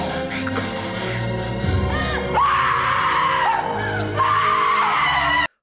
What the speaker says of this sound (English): I would also scream like that if I saw that.